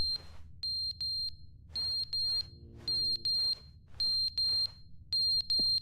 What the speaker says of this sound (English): Like a smoke alarm or something?